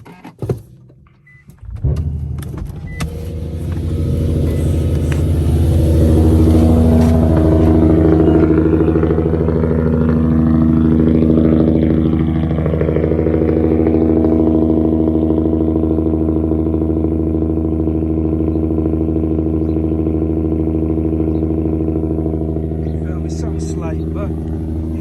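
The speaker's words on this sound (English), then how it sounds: "let me show you guys the cold start" A car engine starting from cold, cranking briefly and catching, then holding a steady, loud, droning idle close by for the rest of the time, with no talk over it.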